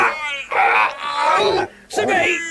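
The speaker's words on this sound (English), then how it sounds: "with a mighty snort like a clap of thunder, the whale opened his mouth wide and yawned" A whale's huge yawn with a mighty snort, produced as an audio drama effect and voiced as a deep, drawn-out groaning moan in two close swells, broken by a brief gap, then rising again loud and near.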